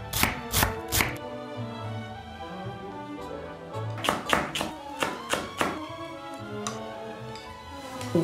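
Okonomiyaki batter of grated yam, flour and dashi being mixed, with a run of sharp, close taps and clicks of utensil against bowl coming in quick clusters, then a pause before another burst of rhythmic knocking.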